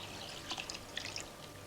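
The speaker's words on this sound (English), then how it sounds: "The water drips slowly from this valve and onto this propeller, making it turn." Water dripping slowly from a valve onto a small propeller inside a water-powered cuckoo clock, a few faint, soft drip ticks over a quiet hiss.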